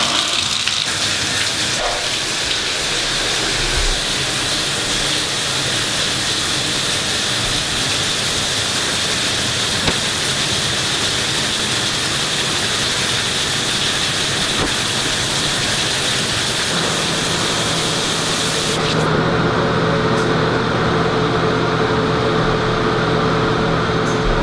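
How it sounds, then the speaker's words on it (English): A bathroom shower runs with a loud, unbroken spray of water that rushes on steadily, its tone shifting slightly near the end. "I'm going to show you guys what happens when I turn on my shower"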